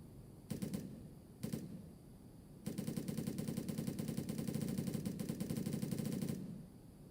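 Rapid automatic gunfire from a gun in the game Teardown, two short bursts followed by a long sustained rattling stream of shots, steady and fairly loud with no talking.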